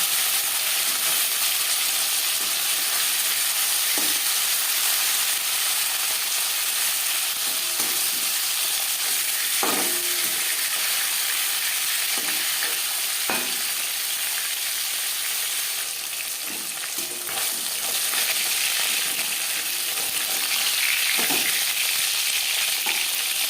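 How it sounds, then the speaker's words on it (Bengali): Pieces of peeled, cut rohu fish fry lightly in hot oil, giving a steady, close sizzling hiss with occasional soft pops and stirs throughout, and no talking. "হালকা করে মাছ ভেজে নেওয়া হয়ে গেছে।"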